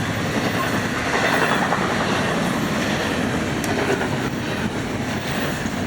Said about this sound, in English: Ooh, garbage train.